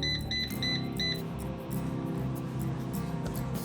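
An air fryer being set to 400 degrees for 20 minutes of sweet potatoes gives a few quick high beeps at the start, followed by a low hum and faint kitchen background.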